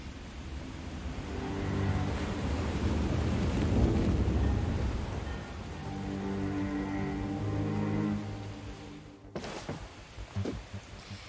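A raging thunderstorm in the video game Moonglow Bay: heavy rain and deep rumbling thunder that swells and rolls over several seconds, then a sharp crack of lightning followed by scattered lighter rain.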